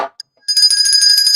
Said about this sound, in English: Oh, the bell means I want to talk.